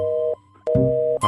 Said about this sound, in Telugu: ఫోన్ నాట్ రీచబుల్ వస్తుంది